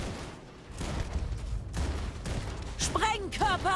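A new weapon firing in Starfield, rapid bursts of gunfire crackling in irregular clusters, with a person talking and exclaiming over the shots.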